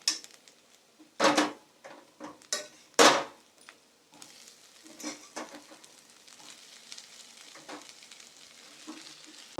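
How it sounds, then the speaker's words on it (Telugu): Fried okra tipped into a hot pan sets off sizzling, with a few sharp clatters of spoon against pan followed by steady stirring and softer frying crackle. "ఇప్పుడు బెండకాయలు ఫ్రై చేసుకున్న బెండకాయలు ఇందులో వేసుకుందాం."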